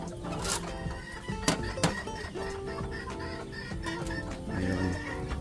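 A broody Chabo bantam hen in a backyard coop clucks in short, scattered calls over a steady background hum and some rustling.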